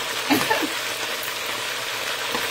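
Chicken browning in an All Clad pan for smothered chicken gives off a steady, close sizzle and crackle of frying that holds throughout, with a few brief louder spits near the start.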